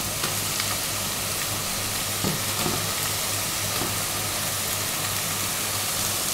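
Pieces of meat fry in a hot pot with a constant crackling sizzle, broken by a few soft knocks of stirring, heard close up without speech.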